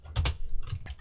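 Computer keyboard typing while entering Arduino Leonardo keyboard code: a few close, quick clicky keystrokes in small bursts, with no talking.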